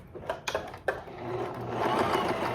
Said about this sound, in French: je suis en train de coudre